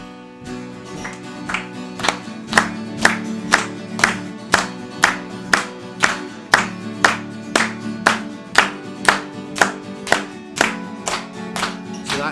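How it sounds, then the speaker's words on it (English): An audience claps along to a live song, steady rhythmic hand claps about twice per second over a band playing underneath, with no talk. "If you want to clap along, it works really well."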